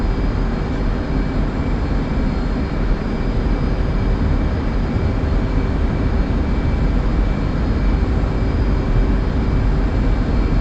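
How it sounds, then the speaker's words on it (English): A military jet takes off at full military power without afterburners, a loud, constant, broadband engine roar that fills the whole stretch at a steady level, with no speech. "So just a full mill takeoff today. No burners. Why waste the fuel? Probably rotate then."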